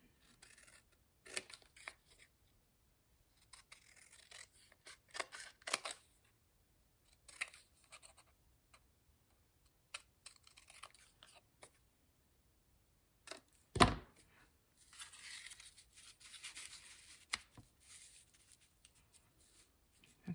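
Scissors cut out paper pieces for a handmade tag book, giving soft scattered snips and rustles with quiet gaps between them and one sharp thunk partway through.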